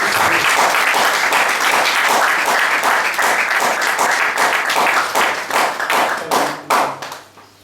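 A church congregation at a French-language Holy Communion service applauds and cheers for Jesus Christ, with dense, loud clapping that carries on steadily before thinning out and fading near the end.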